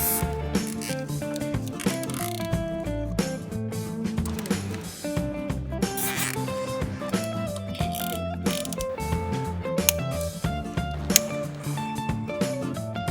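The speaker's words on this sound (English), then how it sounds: "Cable tie them securely." Cable ties ratchet tight around foam insulation wrapped on a car's aircon hose: rapid, continuous zipping clicks, close and fairly loud, with busy mechanical rattling throughout and no talking.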